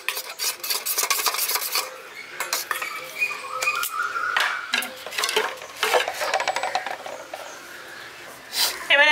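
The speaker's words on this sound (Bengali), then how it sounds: "লবণটা দিয়ে আমি আরেকবার ফেটিয়ে নিচ্ছি ডিমটাকে।" An egg with salt is beaten briskly with a utensil against a bowl, making rapid irregular clinks and scraping taps, with a voice faintly present at times.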